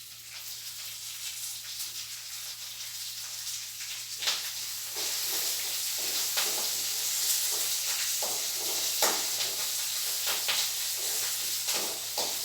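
Curry leaves hit hot oil for a jackfruit curry and set off a bright, steady sizzle. Sharp crackles and spits pop out of the hiss, close by, with no voices.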